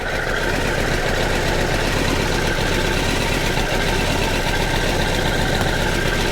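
A Kawasaki GTR1000 motorcycle engine idles close by, with a steady, loud, even rumble and a slight knocking texture that holds constant throughout.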